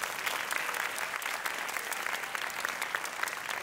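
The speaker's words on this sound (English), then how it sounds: "Can we give them a round of applause?" Applause from an audience at a primary school sports awards ceremony in Bangkok, greeting award winners: a steady, dense patter of many hands clapping throughout, moderately distant, with no voices on top.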